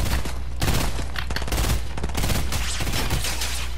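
Star Wars blaster fire in a shooting video game, with rapid, continuous bursts of shots firing at bots, loud and close with no pauses throughout.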